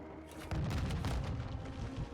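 Rocket blast in Modern Warfare 2 Spec Ops, a sudden loud boom followed by a sustained low rumbling roar that fills the rest of the moment, close and heavy with no speech.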